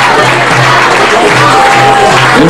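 An audience claps loudly and steadily throughout a short stretch of applause, a dense patter of hands with faint crowd murmur underneath.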